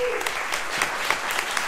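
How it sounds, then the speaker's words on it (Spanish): Brief burst of audience applause at a live interview session in Spain, dense clapping from a crowd heard close and fairly loud, over in under two seconds. "Así que dale un aplauso, por favor."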